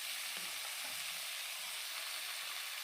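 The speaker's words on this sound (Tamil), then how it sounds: "இப்போ வெங்காயமும் பச்சை மிளகாவும் நல்லா வதங்கி வரணும்." Onions and green chillies sauté in a pan with a steady, quiet sizzle and a few soft stirring scrapes near the start, continuous and alone without talk.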